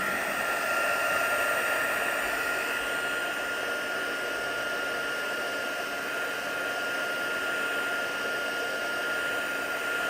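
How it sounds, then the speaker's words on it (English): A heat gun drying a watercolour painting blows a loud, steady whooshing hiss with a constant motor whine, close and unbroken throughout, with no talking. "heat gun. Takes a few seconds just to speed up the process."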